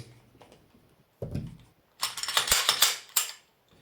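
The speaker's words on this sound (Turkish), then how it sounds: "Tabanca kilitleniyor ve kurulum yapılıyor." A Canik TP9 SFT pistol slide locking and then being racked, a sharp metallic clack followed by a quick run of snapping, ratcheting clicks and a final crisp snap, close and loud.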